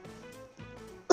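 A person coughs in a couple of short, muffled bursts, followed by a sharper, louder hack at the end.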